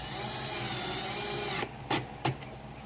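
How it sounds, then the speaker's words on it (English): A power drill whirs steadily for over a second, then stops, followed by two short bursts of the drill driving screws into fiberglass, fairly close. "Then you can use your drill to tighten them back down."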